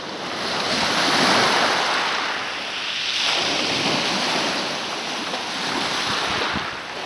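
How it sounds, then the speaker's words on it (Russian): Black Sea waves breaking steadily on the shore, with continuous loud surf washing in and out under gusty wind noise, no voices. "Волны супер!"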